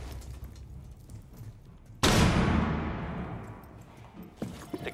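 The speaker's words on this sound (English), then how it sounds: "Flashbang!" Flashbang grenade detonating in a tactical video game, one sudden loud bang followed by a long fading ringing hiss, then quieter game sounds.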